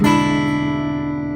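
A single guitar chord strummed once and left to ring out, its bright tone fading slowly, with no talking.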